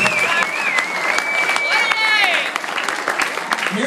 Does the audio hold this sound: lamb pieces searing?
no